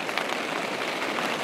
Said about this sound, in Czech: Stále prší